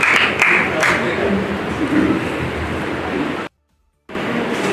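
Applause from an audience welcoming a speaker to the microphone at a formal gathering, a dense steady wash of clapping that cuts to silence briefly near the end before resuming.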